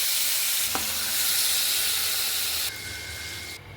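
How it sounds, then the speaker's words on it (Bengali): Salted prawns fry in a pan with a loud, bright hiss and crackle close by; the sizzle holds steady, then drops in intensity partway through. "চিংড়ি মাছে সামান্য নুন মাখিয়ে নিচ্ছি। মাছগুলো হালকা করে ভেজে নেব।"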